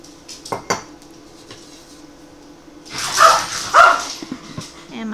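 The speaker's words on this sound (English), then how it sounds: "my dogs are fighting." Dogs fighting and barking in a home kitchen while noodle dough is being made, their yelps and barks mixed with clattering dishes and utensils, loudest in a burst near the end.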